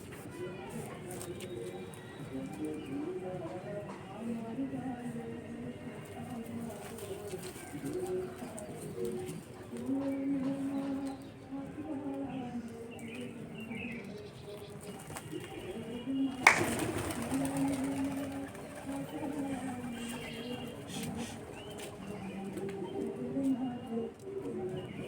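Pigeons coo softly in low, repeated bursts near a handler as they are readied for release, with someone talking over much of it and a sharp clap or flutter partway through.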